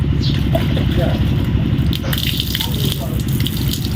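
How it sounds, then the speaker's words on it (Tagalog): Water poured over the whole body during a ritual bath, a steady loud gushing splash with a low running rumble throughout, close by. "magbubuhos na po tayo ng tubig sa buong katawan natin"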